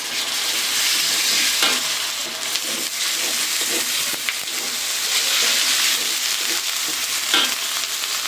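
Ginger paste frying in a pan, a loud close hiss and sizzle broken by repeated scraping strokes of a spatula stirring it.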